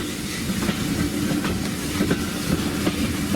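A heritage train on the Kent and East Sussex light railway rolls over rough, cheaply built track, giving a continuous rumbling carriage interior with irregular clicks and knocks from the rail joints, no voices.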